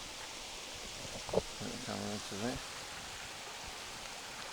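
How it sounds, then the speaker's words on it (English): A waterfall ahead and a shallow river alongside in Black Cave on the Isle of Arran give a soft, continuous distant rush of water, with a few brief voiced sounds in the middle. "I can hear the waterfall in front of me, and then of course there's the river beside me as well"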